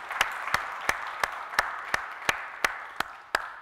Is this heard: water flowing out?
no